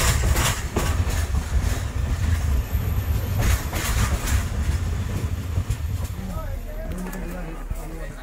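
A passenger train hauled by a 1954 EMD G8 locomotive rumbles through the Cuban countryside, a loud continuous roll with clickety-clack wheel beats and occasional squeals, and a voice talking over it.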